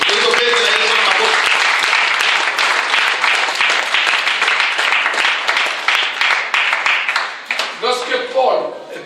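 A church congregation at a Sunday service applauds for Jesus, loud sustained clapping that gradually thins into scattered claps toward the end, with voices briefly audible beneath it.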